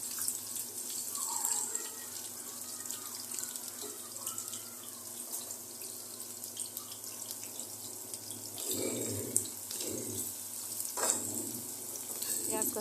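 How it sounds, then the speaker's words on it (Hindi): Two finely chopped medium onions fry in hot oil, a continuous close sizzle with occasional scraping and stirring bursts, no talk. "प्याज को अच्छी तरह ब्राउन कर लेंगे।"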